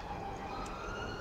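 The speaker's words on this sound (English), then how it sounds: "There we go with sirens." Emergency vehicle sirens wail through busy traffic on the Hammersmith gyratory in London, a steady distant tone riding over constant road rumble.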